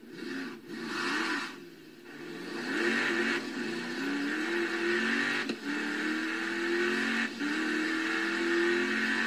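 A 2017-model storm-chaser vehicle with very high gear ratios drives in Forza Horizon 3. The engine drones steadily, its pitch sliding upward through gear changes, with brief dips between shifts.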